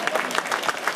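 A crowd applauding the winner of the 2013 Millau 100 km race, a brief steady burst of dense clapping.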